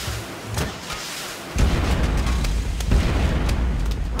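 Cannon fire in the game Plants vs Zombies Fusion, heard as repeated booming blasts and bursts over a dense rumbling bed, several sharp thumps landing in quick succession at close range.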